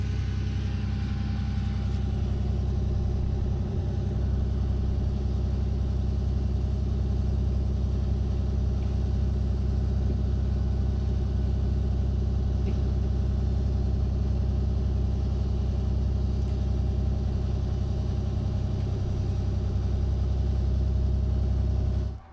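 A vehicle engine runs steadily with a low idling rumble after the clutch is pushed in, on a truck-type machine just bought at a rural farm auction; it stays loud and continuous throughout with no talk.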